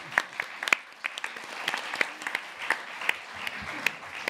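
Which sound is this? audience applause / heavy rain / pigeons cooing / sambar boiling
audience applause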